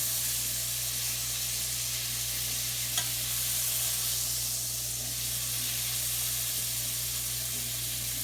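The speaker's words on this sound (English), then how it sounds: "all I'm doing is just searing it on both sides, getting it just a little bit brown." Venison loin searing in a hot skillet, giving a steady, continuous sizzle and hiss that holds evenly throughout, close and moderately loud with no talking.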